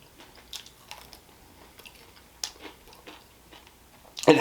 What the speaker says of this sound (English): Good crunch on the skin.